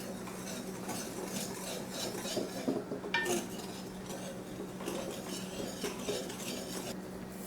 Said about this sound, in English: Now we need to whisk them together.